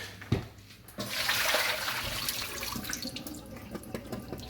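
Cold water is drained off potatoes into a kitchen sink, a brief knock followed by a gushing pour and splashing that then settles into a quieter trickling flow.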